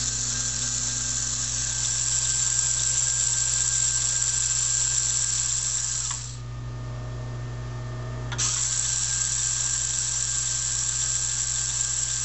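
A VEX robot motor drives a bevel gear mechanism with a steady, whining mechanical hum and a constant high buzz that breaks off for about two seconds and then resumes.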